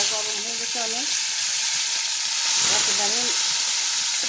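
Fish sizzling and frying in very hot oil in a pan, a loud steady crackling hiss that runs throughout, with faint voices briefly under it.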